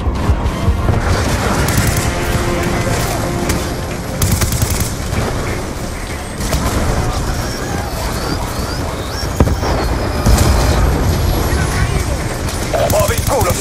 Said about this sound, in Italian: Che cavolo, sparo col cannone qui,